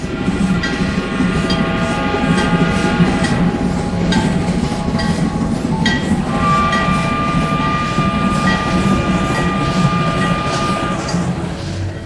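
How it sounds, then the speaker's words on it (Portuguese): A train rolls steadily along the tracks, loud and close, its continuous rumble carrying rhythmic clickety-clack and a faint squeal for the whole stretch, with no voices. "Parte o trem, segue o trilho."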